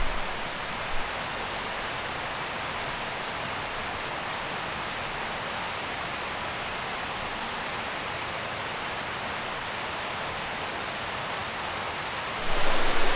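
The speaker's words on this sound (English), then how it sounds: "Very beautiful, very unique formation with a natural bridge going over the waterfall." A waterfall beneath a natural rock bridge, a steady broadband roar of falling water heard up close, continuous and unchanging until it grows slightly louder near the end.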